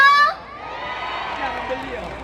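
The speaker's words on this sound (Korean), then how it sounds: "많은 박수와 함성 보내주시면 좋을 것 같습니다" An audience at an outdoor festival celebration performance cheers and claps, a broad crowd roar with shouts and whoops rising after a brief amplified voice at the start.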